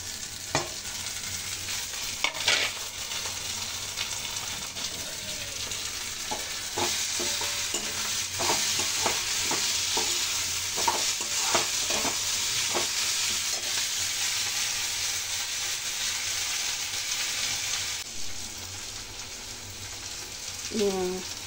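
Chili, garlic and ginger fry with softened onions for an eggplant bharta, giving a continuous sizzle with a run of rhythmic spatula scrapes and taps, close and steady.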